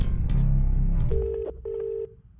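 A telephone rings in a film scene: a short ringing tone sounds twice in quick succession after a moment of low background noise, fairly close and clear.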